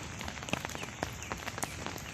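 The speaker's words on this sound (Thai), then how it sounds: "ฝนกำลังลงมาพอดี" Rain falls in a durian orchard as a soft, scattered patter of drops, faint and fairly distant, with no talking.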